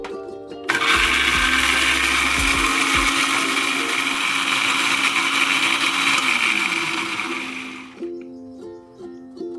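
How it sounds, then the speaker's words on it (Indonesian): An electric blender whirs loudly at speed for about seven seconds, starting abruptly and winding down before a brief quieter tail. "start the blender by pressing the speed button, and we wait until we get the right texture"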